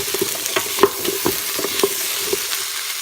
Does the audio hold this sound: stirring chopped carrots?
yes